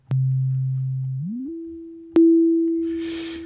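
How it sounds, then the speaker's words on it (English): A pure, steady sine wave tone from a synthesizer's resonant filter hums low, glides up in pitch, then holds; a click marks a brighter restart, with a faint hiss near the end. "this is essentially a sine wave"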